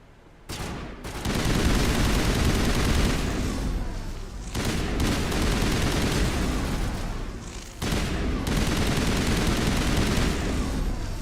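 Sustained bursts of rapid rifle gunfire in the Mass Effect video game, loud and dense, with three long volleys separated by brief pauses.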